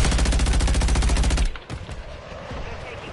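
Call of Duty gunfire rips out as a loud, rapid automatic burst of evenly spaced shots that stops abruptly after a second and a half. Quieter game sounds and scattered noise follow.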